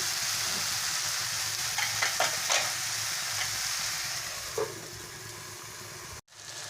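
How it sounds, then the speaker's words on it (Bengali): Taro stolons (kochur loti) sauté over a medium-low flame in a pan, a continuous close sizzle with brief bursts of stirring in the middle. "আমি চার মিনিট ভালো করে কচুর লতিটাকে কষে নিয়েছি রান্না করে নিয়েছি"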